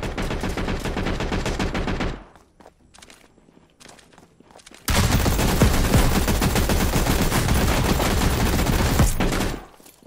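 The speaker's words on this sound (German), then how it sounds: "Und ich wurde beschossen." Gunfire in the video game Don't Even Think: loud dense bursts of shots for about two seconds, a quieter gap with scattered shots, then a long sustained barrage of rapid fire before it cuts off.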